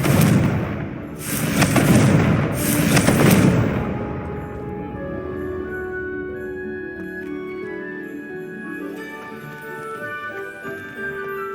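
Confringo spell blasts in the video game Hogwarts Legacy: two loud back-to-back explosive booms, then a long fading tail under soft game music.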